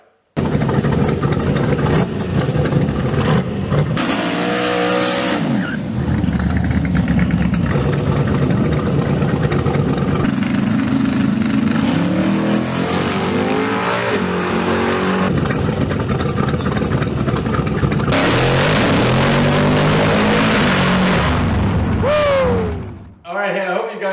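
Loud drag car engines rev and roar through long stretches of burnouts, with tires screeching and engine pitch rising and falling, and voices talking over parts.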